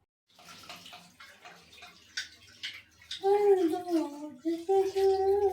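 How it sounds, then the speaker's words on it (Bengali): Tap water runs steadily while someone washes their face at a sink in the morning, starting faint and then swelling loud and close over the last couple of seconds, with a voice talking over it. "চলো ফাইনালি মুখটা ধুয়ে নিই"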